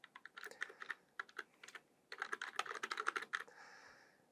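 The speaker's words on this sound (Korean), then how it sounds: "전자메일 아까 저희가 만들었던 아이디를 그대로 입력해 주시면 되겠습니다" Someone types a login ID on a computer keyboard, with quick bursts of crisp close key clicks separated by short pauses and ending in a brief faint hiss.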